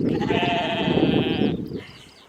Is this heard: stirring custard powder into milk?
no